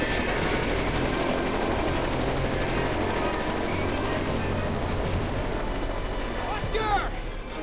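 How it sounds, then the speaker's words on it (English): Helicopter in the video game Jurassic Park: The Game, a steady rotor and engine drone running throughout, loud and continuous, with voices talking over it and a brief sharp sweep near the end. "Land the chopper right now!"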